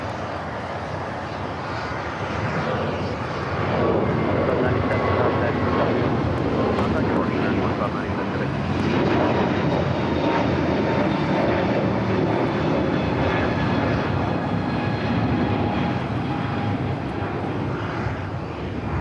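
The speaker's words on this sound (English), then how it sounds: "Aloha Air Cargo, converted 767, coming in from Seattle," An Aloha Air Cargo Boeing 767 freighter in from Seattle touches down at LAX, its engines roaring steadily and loudly through the whole stretch with a broad rumble and faint whine, while a person talks over it.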